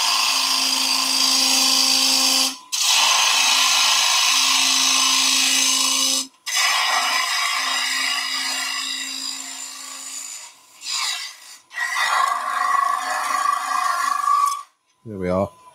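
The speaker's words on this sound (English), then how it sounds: "So we're going down a little bit with the quarter inch, and then we'll go over to the 3/8 gouge." A wood lathe gouge hollows out a German smoker body, giving long steady scraping and rubbing strokes with a faint ringing tone, broken by short pauses between cuts and ending with a brief squeal.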